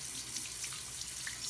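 A tap runs into a sink while a makeup brush is rinsed under the stream, a soft continuous splashing hiss with faint gurgles, steady and fairly quiet with no speech.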